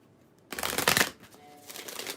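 A Doreen Virtue tarot card deck being shuffled, a close riffling burst lasting about half a second followed by softer rustling, with no talk.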